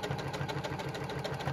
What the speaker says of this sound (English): I am gathering and putting my raw edges together because I am sewing a curve.